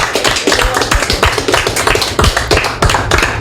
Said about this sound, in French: on peut applaudir ce soir notre invité qui a été là tout au long de la soirée